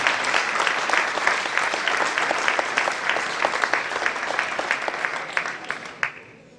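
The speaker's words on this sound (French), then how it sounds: "Merci d'applaudir Shuen Shiwan" Audience at a table tennis match between Jura Morez TT and GV Hennebont TT applauding a player: dense, sustained clapping from many hands that holds steady and fades out near the end.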